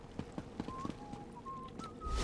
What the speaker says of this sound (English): I see Argonian whistling.